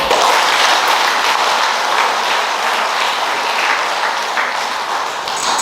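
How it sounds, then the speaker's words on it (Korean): A church congregation at a Sunday Mass applauds a priest, a dense, sustained wash of clapping that stays loud and even throughout with no talk. "박수!"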